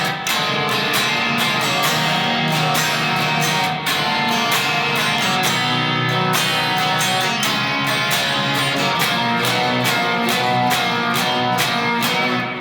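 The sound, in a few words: guitar playing a song's post-chorus section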